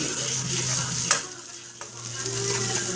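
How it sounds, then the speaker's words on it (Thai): Noodles and pork for Thai rad na being stir-fried in a wok, with a steady sizzle under continuous stirring and scraping, plus a couple of sharp utensil clinks against the pan. "นี่จะทำราดหน้าหมูแล้วก็มาผัดเส้น"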